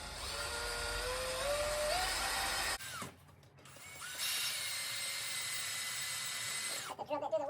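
A power drill bores out a broken exhaust manifold bolt on an LS engine, a steady high-pitched whine that rises in pitch, breaks off briefly and then resumes before stopping.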